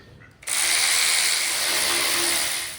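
A 3/8 ratchet works grimy oil pan bolts on an engine being prepped for a 1970 GMC C2500. After a brief quiet start, it clicks rapidly and continuously for about two seconds, close up and loud.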